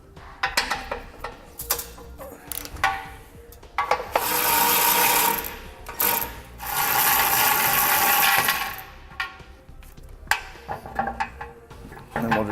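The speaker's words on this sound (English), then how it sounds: "Next, we're going to take a 15mm socket. We're going to remove the 4 bolts holding on our bumper beam." A ratchet with a 15mm socket loosens bumper beam bolts on a 2015 Chevrolet, giving close, loud bursts of rapid metallic clicking broken by pauses and small knocks of metal and tools.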